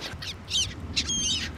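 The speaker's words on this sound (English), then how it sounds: "oh, hello, Mr. Seagull" Seagulls call in the survival video game Stranded Deep, several short harsh cries in quick succession, moderately loud over a steady ambient background.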